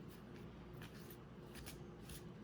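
Tarot cards shuffled during a morning energy reading, giving a faint, soft continuous shuffle with a few light slaps, set against a steady low hum, with no talk.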